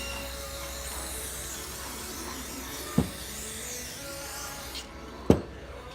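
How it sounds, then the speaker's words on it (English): Brake cleaner sprayed liberally onto an engine piston and connecting rod from a junkyard LS Gen 4 5.3 V8, giving a steady, close aerosol hiss throughout with two sharp knocks near the end. "Pretty liberal with the brake clean."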